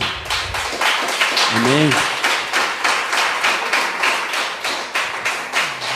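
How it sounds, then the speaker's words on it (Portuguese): Church congregation clapping together in a steady, rhythmic beat during an evening service, loud and sustained, with a brief sung voice rising over it early on. "Podemos dar uma salva de palmas para Jesus nessa noite?"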